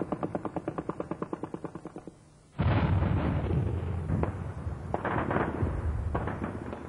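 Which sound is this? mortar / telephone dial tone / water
mortar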